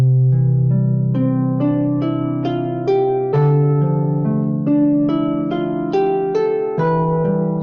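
Plucked harp notes ring out one after another, low and high strings overlapping into sustained, chiming chords, clear and close with no talking.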